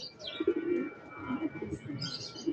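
Soft, repeated pigeon cooing close by, with a few faint chirps from other birds in the background.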